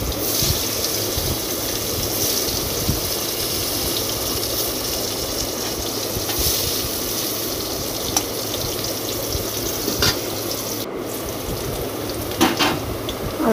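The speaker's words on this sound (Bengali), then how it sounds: "এবার আলুগুলো প্রথমে ভেজে নেব।" Potatoes fry in oil in a pan with a continuous crackling sizzle, steady and close, punctuated by a few brief clatters.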